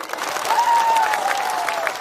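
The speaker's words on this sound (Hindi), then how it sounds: "ताली दीजिए इनको।" Applause from a political rally audience, a dense burst of clapping from a crowd that holds steady and fairly loud for about two seconds.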